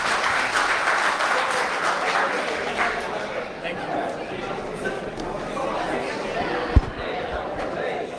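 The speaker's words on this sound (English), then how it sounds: "Round of applause, please." An audience applauds at a hotel management institute event welcoming a hotel learning and development manager, a loud, dense clapping throughout with some crowd chatter mixed in and a single sharp thump near the end.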